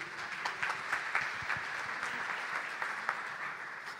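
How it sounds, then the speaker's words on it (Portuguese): A church congregation claps steadily throughout, a dense, even wash of applause from many hands filling the room at moderate distance. "Aplauda o Senhor Jesus."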